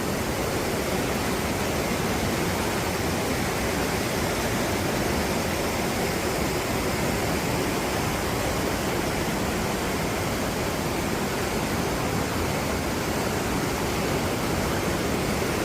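Water rushes steadily from a waterfall and stream inside a Swiss cave, a loud, dense, unbroken roar that fills the space with no other sounds.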